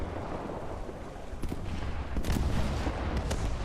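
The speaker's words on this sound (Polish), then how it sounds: "A słychać już potężne strzały jak tutaj lecą obok." Dull, heavy tank gun blasts from a Pz.IV F1 with a short 75 mm gun in War Thunder thud through a dense rumbling battle backdrop, a few sharper shots standing out near the end.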